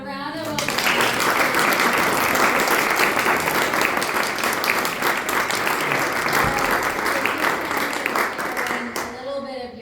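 An audience applauds steadily for a presenter after her talk on gender views, a dense, sustained clapping that swells quickly, holds for several seconds and then tapers off, with a voice audible briefly at the end.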